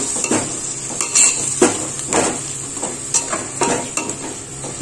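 Ginger garlic mint paste sautéing in hot oil for a homemade chicken dum biryani, with a steady sizzle broken by repeated scraping stirs of a spoon against the pan, close and fairly loud, no talking.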